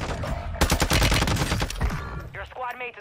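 Sniper gunfire in a Call of Duty battle on Ashika Island rings out as a loud burst of rapid shots and crackling reports, followed by fainter game voice callouts.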